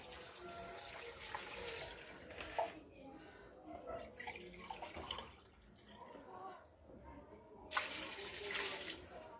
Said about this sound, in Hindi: और 2 गिलास पानी के।